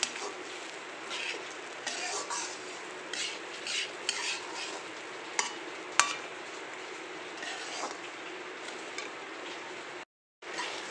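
A spatula stirs ground cumin and coriander into fried rice in a pan, making continuous scraping and soft sizzling with scattered metallic clicks, then a brief dropout near the end.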